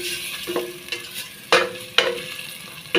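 Beef frying in a pan and stirred with a utensil, a steady sizzle broken by several sharp scraping strokes, close and alone with no talk.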